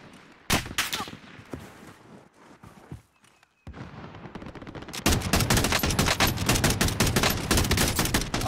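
Gunfire rings out in Call of Duty: Modern Warfare Warzone: a few sharp, separate shots open, then after a short lull dense rapid bursts of automatic fire hammer on loud and close to the end.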